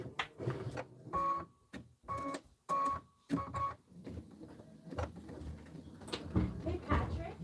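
An embroidery sewing machine stitches out a design in short bursts of mechanical whirring separated by pauses, followed by softer, irregular stitching mixed with handling noise.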